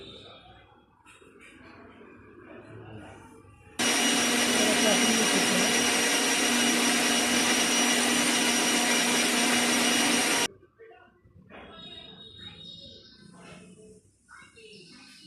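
Mixer grinder grinding chutney seasoned with salt and chaat masala, a loud steady whirring roar that starts abruptly, runs about seven seconds and cuts off, with someone talking quietly before and after.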